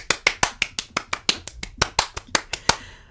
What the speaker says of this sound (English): Crazy clap